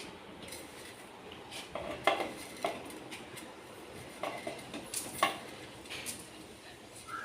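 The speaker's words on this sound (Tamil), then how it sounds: "சோம்பு போட்டாச்சு. சோம்பு பொரியணும்." Fennel seeds hit hot oil in a pan, giving faint, scattered crackles and pops under a steady low hiss, with a few sharper clinks of a utensil against the pan.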